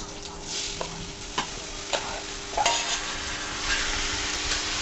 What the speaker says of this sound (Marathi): हे असे सुरुवातीला स्लो फ्लेमवरच परतून घ्यायचे आहे।